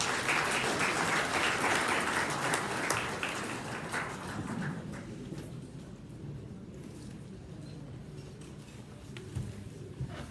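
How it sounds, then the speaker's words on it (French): A ceremony audience applauds, dense clapping that is strongest at first and then thins to a softer, steady patter. "sous vos applaudissements"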